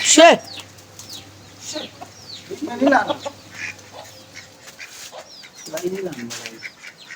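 Chickens cluck and squawk in short irregular bursts nearby, with a hen's call rising now and then over a quiet background.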